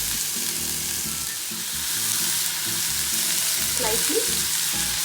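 Onions sauté with salt in hot oil for Amritsari chole, giving a steady, close sizzle throughout over low background music, with a brief spoken word near the start.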